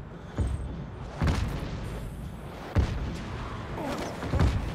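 Enemy fire from a sky fortress in the game Just Cause 3, a few deep booming blasts spaced a second or so apart over a low rumbling background.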